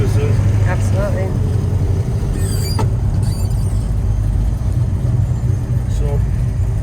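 A 1970 Pontiac GTO runs smoothly on the road, a steady mid-pitched engine hum heard from inside the cabin, with occasional voices talking over it.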